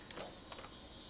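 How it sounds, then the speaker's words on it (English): Cicadas chirp in the video game Hakuoki SSL, a faint, steady high-pitched drone with a few soft clicks underneath, heard alone without speech. "The next day, the cicadas are back and are attacking me."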